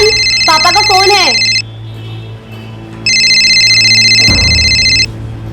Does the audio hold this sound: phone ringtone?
yes